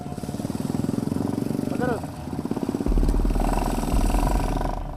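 A motorcycle taxi engine putters along a muddy rural road, with a loud, rhythmic close engine sound that rises and intensifies partway through, while voices talk over it.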